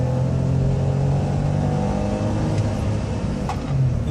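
A Volkswagen Up! accelerating hard from inside the cabin, its small engine droning steadily loud through first gear before a brief dip as second engages, with no talk.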